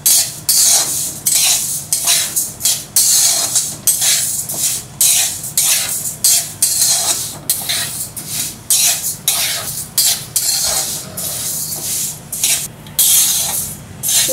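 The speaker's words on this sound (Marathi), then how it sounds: "उडदाची डाळ इथे भाजून झाली आपली, आता आपण काढून घेऊया." Urad dal roasted dry in a pan and stirred, giving repeated scraping, rustling strokes in an uneven rhythm, close and fairly loud, with brief quiet gaps between strokes.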